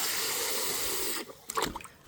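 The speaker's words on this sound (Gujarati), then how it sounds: "જો આમાં પાણી ભરાય છે" Water runs into an inflatable swimming pool with a steady, fairly loud hiss and splash for over a second, then cuts off, leaving a few softer trickles and sloshes.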